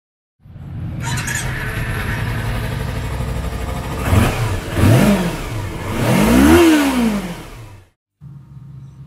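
A 2017 Kawasaki KLE300 Versys-X 300 motorcycle engine starts and idles, then revs up sharply several times with rising and falling pitch, loud and close, before cutting off and restarting.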